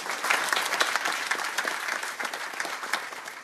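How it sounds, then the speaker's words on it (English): A lecture audience at a Python user group meetup claps in a quick round of applause, a dense, steady burst of many hands close by that holds for a few seconds and then starts to fade. "Maybe a quick round of applause for them."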